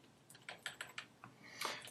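Computer keyboard arrow keys are tapped quickly several times up close, with soft, faint clicks in an irregular rhythm.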